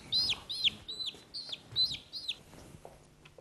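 A chicken clucks in a string of six short, bright calls at a steady pace, heard fairly close against a soft background murmur.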